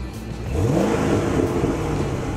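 A Corvette C6 Z06 engine revs with its exhaust valves closed, a muffled deep roar rising in pitch then holding at a steady, fairly loud drone, heard close with no talking.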